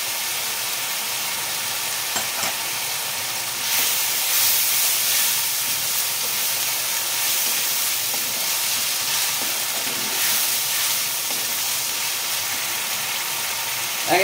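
Ginger paste sizzling steadily in hot oil in a pan for an egg and cabbage curry, a continuous loud hiss that swells slightly after a few seconds and holds without pause.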